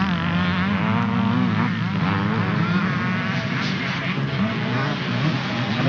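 Motocross bikes, including lapped back markers, race at the 1985 Howick Motocross, their engines a dense, continuous whine that rises and falls in pitch as several machines pass close by on a muffled, old-sounding recording.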